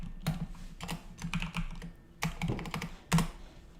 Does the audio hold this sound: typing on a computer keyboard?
yes